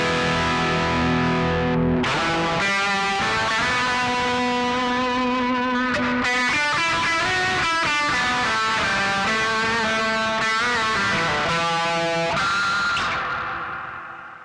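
Electric guitar run through an M-Vave Blackbox on a distorted amp model, heavy sustained chords and held notes with thick gain, loud and continuous, fading out at the end.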